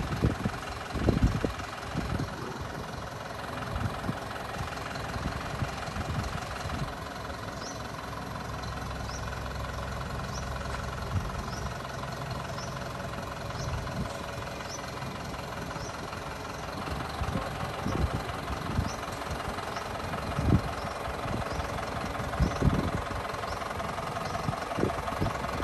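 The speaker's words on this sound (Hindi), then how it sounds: "क्या बात है, ऑटोमेटिक चल रहा है ट्रैक्टर," An automatic tractor engine runs steadily with a low, knocking idle rumble, joined by intermittent clunks and thumps throughout, with no talk.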